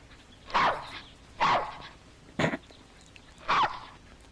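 A dog barks four times at roughly one-second intervals, each bark short and moderately loud, heard from a middle distance with no talking over it.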